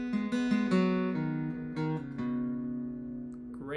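A guitar picks a short pattern with pull-offs from a song: clean, close plucked notes in an even rhythm that ring and slowly fade, with no voice over them.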